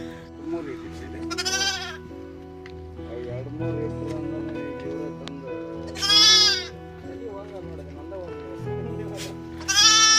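Several sheep and lambs bleat loudly in separate bursts, close by, inside a netted enclosure at a nomadic shepherds' camp, with a low steady hum and some voices underneath.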